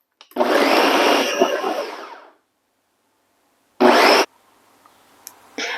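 A kitchen blender whirs loudly and close as it purees dory fish with cold ice water for pempek: one long run of about two seconds, a pause, then a short second burst.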